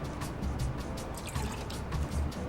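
Cold brew coffee concentrate is poured into a copper mug already holding lime juice, making a close, gurgling trickle with uneven drips and splashes through the short pour.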